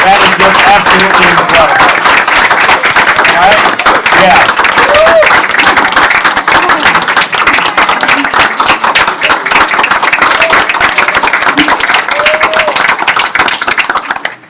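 Loud, sustained applause from an audience at a school district board of education meeting, dense continuous clapping filling the room throughout, with a few voices audible beneath it.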